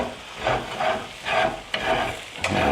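Hash browns sizzle in a hot pan while being stirred and scraped, rhythmic scraping strokes about every half second over a steady frying hiss, close up.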